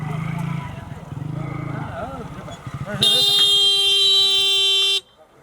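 Motorcycle horn honks in one long, loud, steady blast lasting about two seconds, following a stretch of talking voices.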